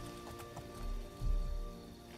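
Soft, steady hoof clopping from a walking horse in The Elder Scrolls IV: Oblivion, fairly close, with a faint musical hum underneath.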